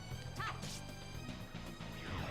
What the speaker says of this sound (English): Just get the karate chops and everything, breaking the glass sound effect that it comes with.